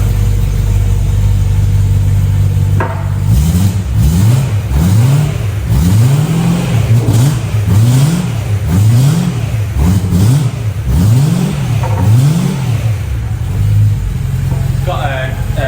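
A car with a titanium mid-section back exhaust built for track days revs repeatedly from idle, loud and close, in a rhythmic series of rising and falling engine swells.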